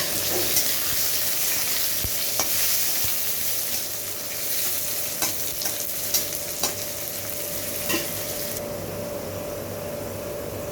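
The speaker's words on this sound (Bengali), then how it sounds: "কড়াইতে কিছুটা তেল দিয়ে দিয়েছি, এখন আলুটা ভেজে নেব।" Potatoes fry in hot oil in a wok for an aloo gobi dish, giving a loud, continuous sizzle broken by occasional scraping stirs, with no talking.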